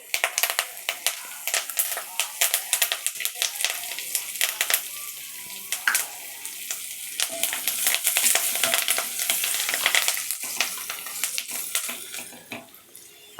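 Curry leaves frying in hot oil in a pan for Tamil brinjal gravy, a steady close sizzle with crackling pops and sharp spits throughout, swelling slightly louder midway before easing.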